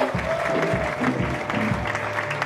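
A church audience claps in steady applause, moderately loud and sustained, while a speaker's voice carries over it.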